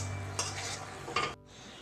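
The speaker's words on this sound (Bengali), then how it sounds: "এই মশলাগুলি ভালো করে নাড়তে হবে যতক্ষণ না তেল ছাড়ে।" Spices for potol chingri are stirred and fried in oil in a pan, with close sizzling and two quick scraping stirs before the hiss drops briefly.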